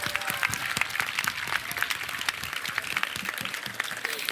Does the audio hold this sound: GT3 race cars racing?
no